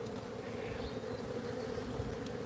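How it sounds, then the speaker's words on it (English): Feral Africanized honeybees in a log cabin swarm with a constant dense buzzing hum, close and steady throughout with no voices. "You've got to assume if you're encountering feral honeybees south of the Mason-Dixon line, they're Africanized."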